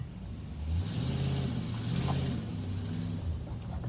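A Nissan Titan pickup backing up a hill, its engine giving a steady, moderate mid-range drone throughout with a slight swell partway, no voices over it.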